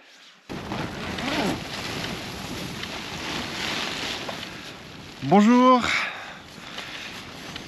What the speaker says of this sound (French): Comme vous pouvez le voir, il y a pas mal de vent, enfin, plutôt l'entendre.